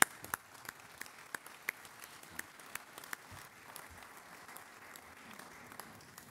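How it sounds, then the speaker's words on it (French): Applause from an audience at a tourism destination contract signing ceremony in Dunkirk, faint and sparse, with a few sharper individual claps standing out over a thin patter for several seconds. "on peut vous applaudir"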